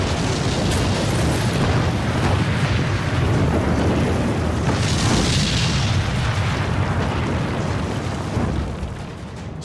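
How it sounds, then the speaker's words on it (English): High explosive and incendiary bombs dropped from Lancaster bombers detonate in a dense, continuous roar of booms and rumbling blasts, loud and unbroken throughout. "Lancasters dropped both high explosive and incendiary bombs."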